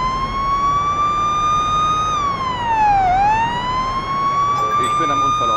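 A police car siren from the video game Police Simulator Patrol Officers wails steadily and loudly for the whole stretch, a strong harmonic tone that holds, dips once in pitch and rises again, over low rumbling engine noise.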